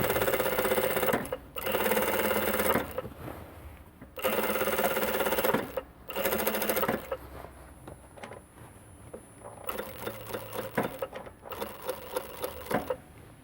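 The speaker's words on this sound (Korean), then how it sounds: "양쪽에 품을 줄이고 스티치 작업까지 끝낸 상태입니다" An industrial sewing machine runs in several bursts, each a few seconds long with short pauses between them, while stitching a men's jacket during tailoring alterations. The machine hums steadily and sits close by, with no voices.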